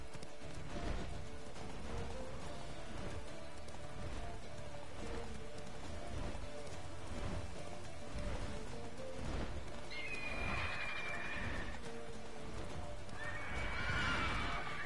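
Horse galloping in The Witcher 3 game, with rapid rhythmic hoofbeats pounding steadily throughout over a rainy ambience, plus a couple of neighs near the end.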